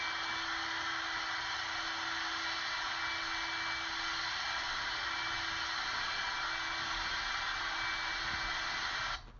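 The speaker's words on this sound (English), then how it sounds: "We then vacuum." A vacuum cleaner runs steadily and close, a continuous whining roar with a faint steady tone, cutting off right at the end.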